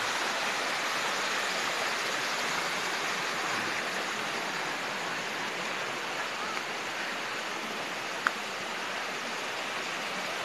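A strong, flooded waterfall at Busay in Lemery, Iloilo roars with steady, dense rushing water, loud and unbroken throughout, with a single brief click near the end.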